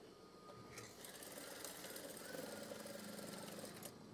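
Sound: sewing machine stitching a curtain tie

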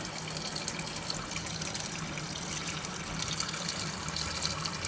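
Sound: Danby DWM17WDB portable washing machine filling with water

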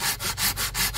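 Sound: sawing a tree for firewood

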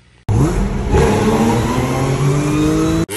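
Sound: supercharged car engine revving

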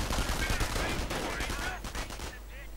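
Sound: gunfire including MP40s in a WWII strategy video game

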